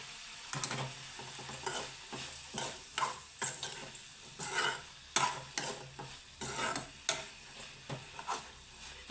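Ridge gourd with a pinch of salt frying in a pan for a garlic-ginger palya, faint sizzling broken by a regular series of spatula scrapes and taps against the pan, close and without talk.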